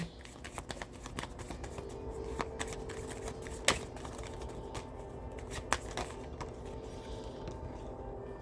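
A deck of playing cards is shuffled and handled, giving a steady run of soft riffling clicks with a few sharper snaps, close and moderately quiet with no talking.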